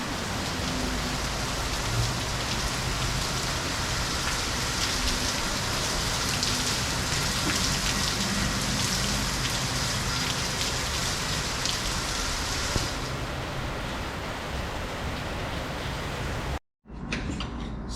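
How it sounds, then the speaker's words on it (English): Heavy rain pours steadily and loudly, a dense unbroken hiss close by during a wet day in Key Largo, with no talking, ending in a brief cut to silence. "It is raining, and raining hard."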